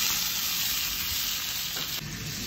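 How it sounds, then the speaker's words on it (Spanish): Bacon sizzles loudly in a hot frying pan, a constant bright hiss and crackle close by with little change throughout. "Ya que está caliente, agregamos el tocino."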